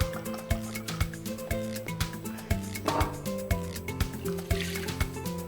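Dry white wine is poured into butter in a cooking pan, with a trickling liquid sound running under a steady, rhythmic backing beat of music.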